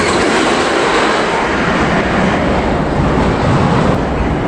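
A Knott's Berry Farm roller coaster train rolls out of the station with a loud, steady rushing rumble, close and continuous, without talk.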